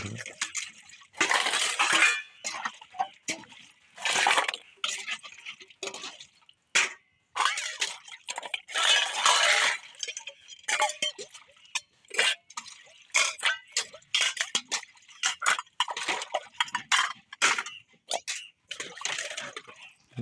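Dishes, plates and large pots being washed with water at home, giving repeated clinks, splashes and drips in close, irregular bursts with someone talking over much of it.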